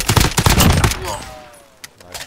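Gunfire in a multiplayer shooter, a quick burst of rapid automatic shots up close that tails off into fading echoes, with a voice speaking over it.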